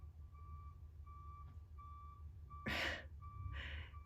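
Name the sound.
construction vehicle reversing beeps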